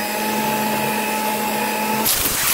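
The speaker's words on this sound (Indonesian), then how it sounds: "dan ini kita mixer kembali" Electric hand mixer running steadily while beating sago cheese cookie dough with grated cheese, a continuous motor whine with tonal hum, then a brief rougher scraping burst near the end.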